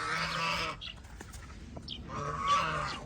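Roosters and chickens kept beside a backyard rabbit cage call out in two loud, drawn-out bursts at the start and end, with a quieter gap of scattered farmyard noise between.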